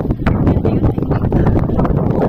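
Strong wind blowing outside in snowy weather at minus twenty, a loud continuous buffeting roar with gusty rumble hitting the microphone, no voices.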